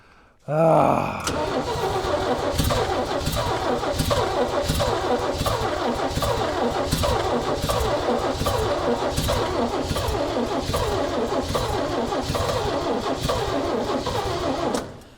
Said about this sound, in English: I feel like the starter doesn't turn it fast enough